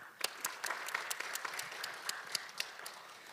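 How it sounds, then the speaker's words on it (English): A conference audience applauds to welcome a speaker, a short burst of steady clapping at moderate distance, fairly soft and even throughout. "Please welcome Mr. Bourdonnais with a big applause"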